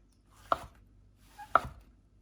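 Two crisp knife chops through mushrooms on a cutting board, about a second apart, close and fairly loud with quiet between strikes.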